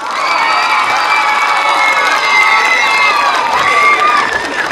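Crowd at an autumn fair cheering loudly, with high excited voices and shouts layered in a sustained roar close by, and applause barely evident beneath.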